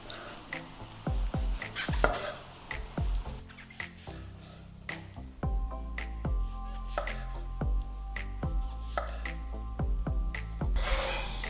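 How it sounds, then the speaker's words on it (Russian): Mushrooms are sliced with a knife into half-centimetre pieces for soup, giving a steady series of crisp, close chops on a cutting board with short pauses between strokes. "Все грибочки режем на такие вот ломтики."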